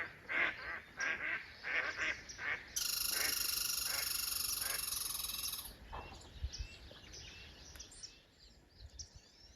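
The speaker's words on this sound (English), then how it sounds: "on my arrival, I think I made a family of ducks very unhappy" Ducks in a family group quack and honk at a lake, a run of loud nasal calls swelling into a sustained chorus in the middle, then scattered calls trailing off against outdoor background.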